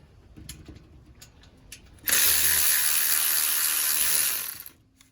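A power tool whirs steadily for about two seconds after faint clicks and tool handling, close and loud, while removing a 10mm bolt during an LS engine swap on a 1995 Chevy Tahoe.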